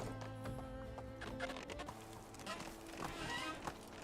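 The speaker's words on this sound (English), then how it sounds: "There's a horse in the house." Horse hooves clip-clop in the Medieval Dynasty video game, a steady run of hoofbeats with an occasional whinny over a soft musical and ambient game background.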